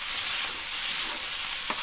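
Potatoes, broad beans and spinach stir-fry in oil with spices, a close, steady hiss of frying that carries on without a break, with one brief tap of a utensil near the end.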